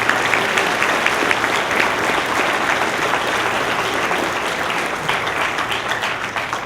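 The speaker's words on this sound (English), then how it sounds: "Please give a welcome applause for the Board of Education." An assembly audience applauds the Board of Education at a school Veterans Day program, sustained loud clapping from many people with a faint steady hum beneath, tapering slightly toward the close.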